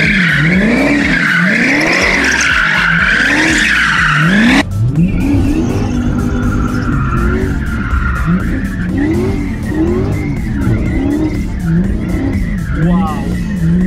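A 1971 Dodge Challenger fitted with a Hellcat engine drifts, its tires screeching in long repeated squeals over a loud, rising and falling engine roar, with a brief sharp break midway and people talking throughout.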